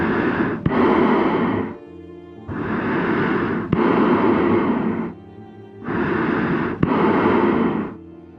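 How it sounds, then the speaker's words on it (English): Masked exterminator character from a Little Nightmares-style video game breathes heavily through a mask, three long rasping inhale-exhale cycles in slow rhythm, close and loud. "While searching for the player, they would make a heavy breathing noise through their mask."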